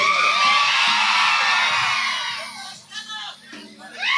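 Women in an audience at a live comedy show cheer and whoop in a loud, sustained crowd roar that fades, then bursts back with fresh shouts.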